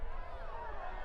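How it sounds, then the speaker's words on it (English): Home supporters at an Adelaide United Women versus Sydney FC Women W-League football match raise a steady, loud crowd roar of yelling and babble, continuous across the short moment with no distinct single voice. "the home crowd are yelling for something, not quite sure what"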